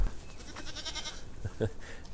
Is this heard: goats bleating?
yes